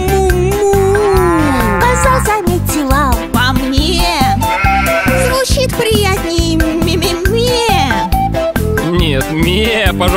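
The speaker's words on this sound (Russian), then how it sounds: "Корова замычала" A cartoon cow lets out long, loud, wavering moos over a bright children's music backing, the pitch sliding up and down across several calls.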